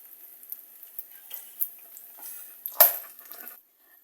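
Snacks frying over low to medium heat in a pan while being stirred, with soft intermittent scraping and light sizzling, then a single sharp clatter of the utensil near the end before the sound briefly falls quiet.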